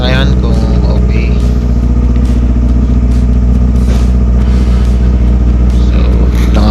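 A loud motorcycle engine, just fitted with a new cylinder head gasket, idles and revs close by, with a steady low throb and rhythmic bursts over a constant rumble.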